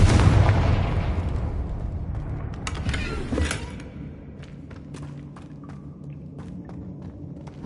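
A Confringo blast spell in Hogwarts Legacy bursts with a loud, booming explosion, followed by a second sharp crack and a rumbling, crackling decay.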